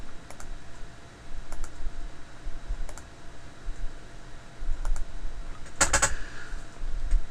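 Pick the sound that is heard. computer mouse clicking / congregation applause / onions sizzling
computer mouse clicking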